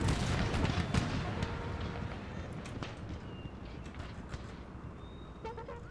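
Cannon artillery fire in Empire: Total War, a battle in a city with canister shot aimed at cavalry, comes as a dense rumble of distant booms and scattered cracks under continuous battlefield noise.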